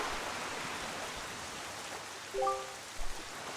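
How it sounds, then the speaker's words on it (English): Steady rain falls on a cursed island under dark clouds in The Legend of Zelda: The Wind Waker, a soft even hiss throughout, with a few brief tonal chimes and a small splash near the end. "this place suffers under dark clouds and rain"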